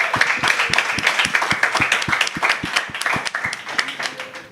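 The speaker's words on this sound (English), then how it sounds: "A round of applause, please." A small audience at a tech meetup claps together, sharp individual hand claps in a lively, uneven rhythm that carries on steadily at moderate loudness.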